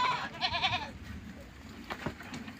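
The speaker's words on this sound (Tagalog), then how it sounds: "Yan ang bagong panganak na kambing." A newborn goat kid bleats once, a wavering, close cry near the start, followed by soft farmyard rustling and brief scuffing sounds.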